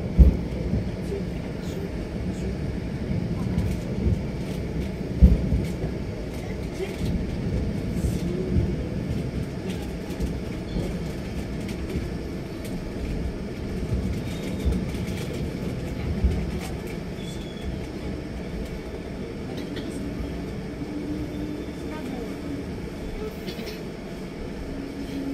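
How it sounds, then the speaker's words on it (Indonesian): The Mutiara Selatan passenger train rolls into Cipendei station, a long, loud, steady rumble of wheels and carriages heard from on board, with rattles and clunks throughout. "kereta Mutiara Selatan masuk stasiun Cipendei"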